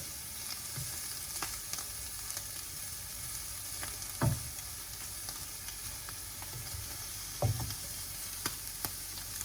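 Shrimp fry in a pan for fried rice with a quiet, steady sizzle, punctuated by a few sharp clacks and scrapes from a utensil; no one speaks.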